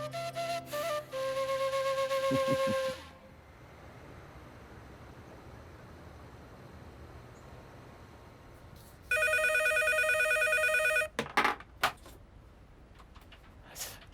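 An electronic telephone rings in two loud buzzing bursts separated by a few seconds of quiet, followed by a couple of soft knocks as it is picked up.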